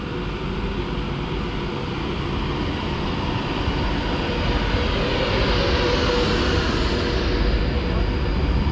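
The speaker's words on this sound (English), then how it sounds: "The rumbling here, there is another Pendo passing through." A Pendolino train passes through Tamworth station, a continuous heavy rumble with a broad hiss that holds steady and close throughout, with no talk.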